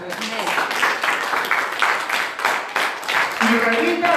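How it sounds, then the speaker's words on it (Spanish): A church congregation claps during a Spanish-language worship service, a dense, steady patter of applause lasting the whole moment, with voices and cheering mixed in throughout. "Dame un aplauso al querido."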